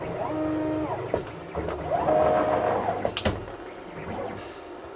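Mat cutter cutting the outside edge of a double mat in a custom frame shop, with motorized whirring passes, rising and falling mechanical tones and sharp clicks and clunks between movements.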